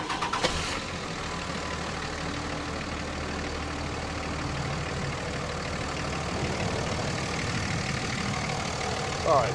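A diesel vehicle engine cranks and catches, then settles into a steady low rumbling idle that continues evenly and close by, with no talk over it.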